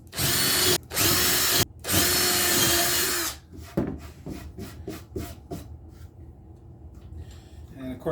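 A power drill bores screw holes into wood in several loud sustained bursts with short pauses, followed by quieter scraping and handling knocks nearby.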